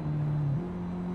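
A Hyundai Tuscani's engine in the Assetto Corsa racing game holds a steady droning note, then steps abruptly to a new pitch at a gear change, close and continuous with no talk.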